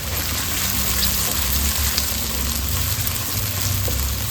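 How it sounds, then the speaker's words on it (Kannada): Chopped onions fry steadily in hot oil for a potato gravy after mustard seeds have spluttered, a close continuous sizzle with a faint crackle and no talking. "ಸಾಸಿವೆ ಈ ಹದದಲ್ಲಿ ಚಿಟಪಟ ಅನ್ನುವಾಗ ಕಟ್ ಮಾಡಿ ಇಟ್ಕೊಂಡ ಈರುಳ್ಳಿನ ಸೇರಿಸ್ಕೊಂಡು ಚೆನ್ನಾಗಿ ಫ್ರೈ ಮಾಡ್ಕೊಳ್ಬೇಕು"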